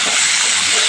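Salted potato pieces fry in hot oil for Bengali aloo posto, a loud, close, continuous hissing sizzle filling the moment without pause.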